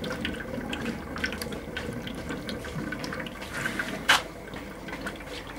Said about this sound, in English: Bubbling pretty good now.